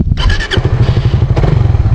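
A motorcycle engine runs loud and close during a clutch demonstration, with a fast pulsing exhaust beat and a brief burst of clatter near the start.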